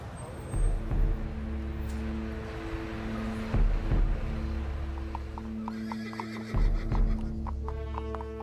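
A horse whinnies loudly several times in a historical battle scene near a palace, with clip-clop hoofbeats and a steady low rumble of activity beneath, no talking.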